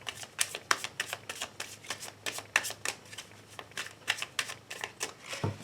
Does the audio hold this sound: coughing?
no